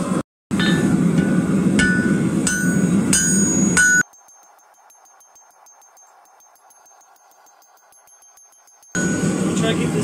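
Sharp metallic hammer and chisel strikes on a hot steel bar ring out in an irregular series, then give way to a long quiet gap before the noise returns.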